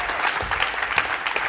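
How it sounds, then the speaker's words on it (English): An audience at a JNUC 2018 conference session applauds, a dense, steady wash of many hands clapping at moderate level throughout this brief moment. "So let's give them a round of applause."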